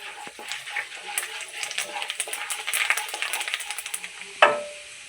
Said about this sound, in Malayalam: അതിലേക്ക് നമുക്ക് കടുക് ഇട്ട് കൊടുക്കാം.